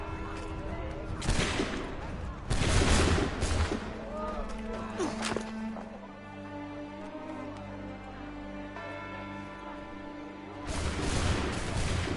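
Musket volley gunfire in Assassin's Creed III, loud bursts of massed shots cracking out around a shouted command, with game music and voices underneath and a final volley near the end.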